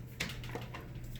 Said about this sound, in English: It makes a really good humming noise.